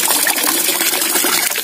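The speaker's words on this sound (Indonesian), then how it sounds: "Ini ada bak penampungan air, ini mubazir ya airnya ya, mubazir langsung ke selokan ya" Tap water gushes steadily into a storage tub and overflows toward a drain, a dense continuous splashing rush heard close and loud with no talk.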